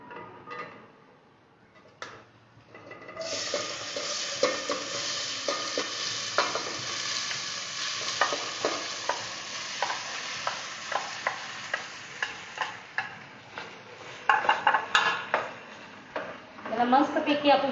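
Cooked wheat is tipped into a pan of ghee and stirred, setting off a steady sizzle with repeated scraping and tapping of a spoon against the pan, close up, with a voice talking over parts of it.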